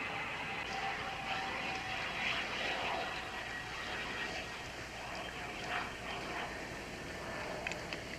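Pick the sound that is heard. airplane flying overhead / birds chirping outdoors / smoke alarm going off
airplane flying overhead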